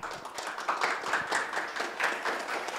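Applause for a short film at an awards ceremony, a fairly soft mix of scattered hand claps that continues steadily through the whole moment with no voices.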